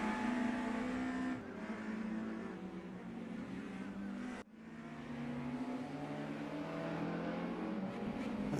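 BMW and Mercedes DTM '92 race cars in a racing game at Zandvoort, engines howling loudly and steadily, with pitch shifting as they rev and lift through a corner and a brief dip in the middle.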